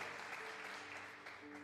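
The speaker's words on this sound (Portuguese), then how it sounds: "Dê um aplauso ao Senhor" A church congregation at a Portuguese-language worship service claps together, a dense, steady round of applause from a crowd, fairly faint and brief.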